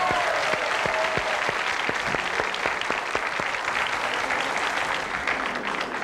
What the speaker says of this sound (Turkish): Ulan bu sürekli bizden büyük alkış alıyor